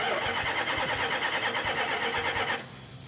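A 1972 Dodge Charger engine runs loud and close for most of the clip, a dense steady rumble with a rapid pulsing beat, then drops off sharply near the end to a faint low idle.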